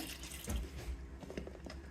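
Water poured into the pot of a neglected house plant, a steady splashing trickle over about two seconds with a faint low hum behind it and no one talking.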